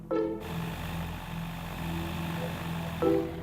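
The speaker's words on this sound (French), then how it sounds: "L'engin qu'il veut nous faire essayer n'est pas la voiture volante, pas encore, mais un autogire." Engine and propeller of a light autogyro aircraft, a steady droning hum throughout, with brief louder tonal bursts at the start and near the end.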